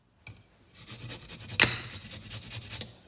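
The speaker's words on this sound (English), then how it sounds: "Grate the ginger." Fresh peeled ginger root is rubbed against a grater in a home kitchen, making a steady run of soft, close rasping strokes that build after a quiet start, with no one talking.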